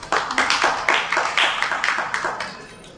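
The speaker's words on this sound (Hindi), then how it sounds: "ताली क्यों बजाई आपने?" An audience at a Jain monk's sermon in Bangalore claps in quick rhythmic bursts, close and fairly loud, gradually tapering off over a few seconds.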